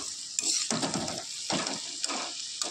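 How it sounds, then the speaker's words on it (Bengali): Potatoes frying in a pan give a close, steady sizzle, broken by rhythmic scraping stirs of a spatula against the pan roughly every half second. "আলু ভাজাটা এধারে প্রায় হয়ে গেছে,"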